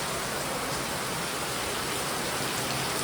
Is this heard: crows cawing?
no